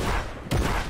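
A single sharp gunshot in Fortnite Battle Royale, a short close crack midway through a brief stretch of game noise.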